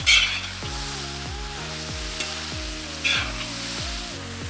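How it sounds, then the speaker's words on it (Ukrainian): Beef and onions fry in a pan, a continuous close sizzle, while a spoon or spatula stirs with repeated low scraping knocks and no talking. "М'ясо трішки почало підсмажуватися, з'являється перша золота скоринка, я додаю цибульку до нього."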